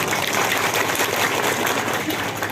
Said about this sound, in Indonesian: Tepuk tangan untuk anak-anak kita semua